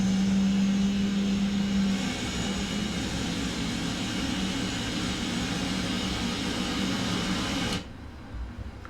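A simulated Boeing 777 jet engine spins up in the PMDG flight simulator, a steady droning roar with a low tone that shifts early on, holding loud and even until it cuts sharply near the end.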